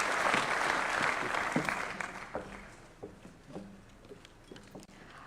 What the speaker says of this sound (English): Let's give them a clap as they're coming.